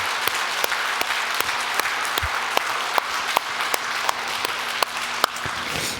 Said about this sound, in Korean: 옆에 분 바라보며 우리 힘차게 박수 한번 하도록